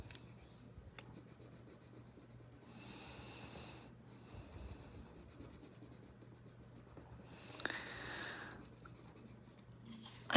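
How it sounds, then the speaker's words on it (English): A pencil or marker shades a mailbox drawing darker, making faint, close scratchy strokes in quiet bursts, followed by a soft rustle near the end. "I'm also going to color this side of the mailbox darker"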